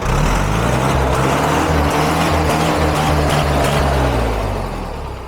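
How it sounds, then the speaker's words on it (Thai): A Thai truck fitted with an imported 6610 engine, a single rear axle and a mid-mounted gearbox idles loud and close. The diesel knock is steady and rhythmic and throbs evenly before easing off slightly at the end. "ไหนเดี๋ยวขอฟังเสียงเครื่องใกล้ๆหน่อย"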